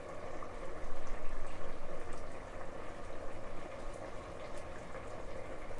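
Black-eyed bean (lobia) dal with potatoes bubbles at a steady rolling boil in a pot, giving a dense, continuous burbling wash of sound that stays fairly close and even throughout.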